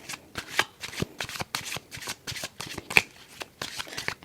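Tarot cards shuffled by hand in quick riffling bursts, a crisp irregular flutter of cards repeated many times at close range with no voices.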